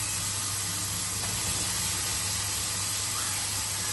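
Washed, grated carrots sautéing in a pan for carrot kheer, giving a steady, even sizzling hiss that holds without a break and carries no talk.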